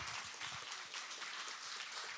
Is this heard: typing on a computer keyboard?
no